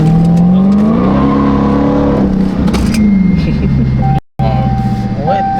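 A salvaged 2023 Dodge Challenger Hellcat Jailbreak engine revs loudly while the car slides sideways across a lot, a strong rising and falling exhaust drone with a brief dropout, and people talk over it throughout.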